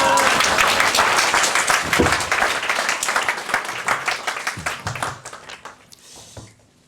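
A church congregation applauds to welcome the pastor to the pulpit, a loud burst of clapping that thins out into scattered claps and fades to near silence.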